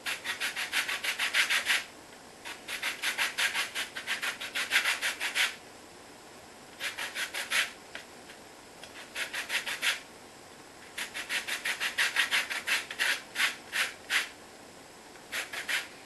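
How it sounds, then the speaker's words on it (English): Lemon peel grated over a metal grater into cupcake batter, with repeated close rasping strokes coming in bursts separated by short pauses, and no talking. "get your lemon and literally just grate the skin off into the mixture"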